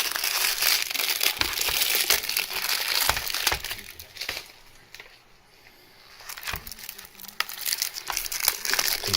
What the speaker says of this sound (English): Let's get the cellophane off there.